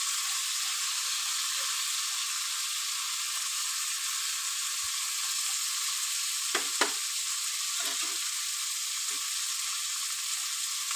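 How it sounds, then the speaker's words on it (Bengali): Chopped tomato sizzles and fries in a pan for egg curry, a steady bright hiss with a few stirring clatters near the middle, close and alone. "এবার দিয়ে দেবো আমি টমেটো কুচিটা।"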